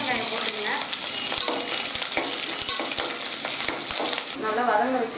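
Onions sizzle and crackle steadily in hot oil with fennel seeds, close and continuous, with faint clinks of a utensil against the pan for a prawn curry.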